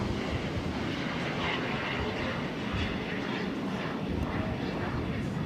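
A jet airliner powers up for takeoff on a Boston airport runway, a dense steady engine roar and rumble filling the scene, loud and continuous.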